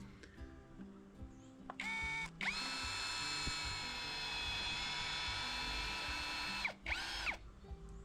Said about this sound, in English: The battery drill works wonders. Stick some pilot holes in.